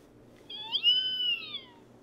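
A Build-A-Bear Mew plush toy gives one clear, high electronic meow-like cry that rises and falls over about a second, close and alone against faint background hum.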